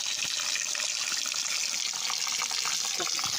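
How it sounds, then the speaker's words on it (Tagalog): Continuous bright rush of cold spring water flowing out beside a river on a farm lot, close and steady, with no voices. "pati yan, meron din tubig na lumalabas eh"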